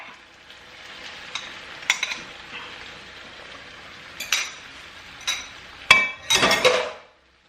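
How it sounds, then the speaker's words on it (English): An egg sizzles and fries in a hot wok while shrimp fried rice is being made, with a steady crackle and several sharp metallic clinks and scrapes of a utensil against the pan, loudest near the end, no talking. "I am going to just cook my egg right here in this spot"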